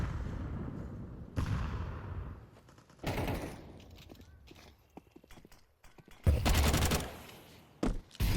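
FAMAS rifle fire in a Counter-Strike match, heard as several short bursts of rapid gunshots interspersed with clipped single shots and quieter stretches, loud and close with some background game noise.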